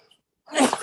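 A single sudden sneeze after a brief silence, short and forceful, close by.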